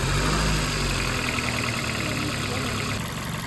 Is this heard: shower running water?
no